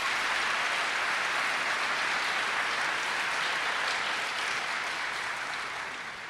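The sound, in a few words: audience applause for Hancock Bank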